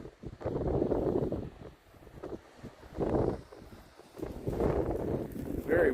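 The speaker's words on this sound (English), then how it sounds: "Very windy." Strong gusty wind buffets the microphone outdoors beside a clear river while fishing, arriving in loud rumbling bursts with calmer gaps between them.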